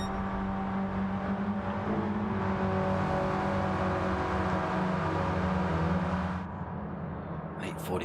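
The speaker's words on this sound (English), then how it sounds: "I think we've already got drivers out on circuit, just having a little runabout with those medium tyres," Race cars in the DMK Mr Bean Trophy League run at the Willow Springs circuit on medium tyres. Engines drone and whir steadily at a distance, then fade off near the end.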